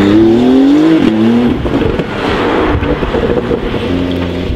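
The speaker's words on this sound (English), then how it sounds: "With QUICKSILVER system, the sound is continuously blended through smaller bore and larger bore pipes to give a really linear note" A Porsche 992 Carrera S fitted with a Quicksilver exhaust revs loudly up close, the engine note climbing, dropping back and then holding at a throaty idle-to-mid rev level.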